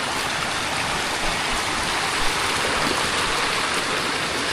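Swollen stream overflowing its banks makes a loud, steady, continuous rush of water close by, with no pauses.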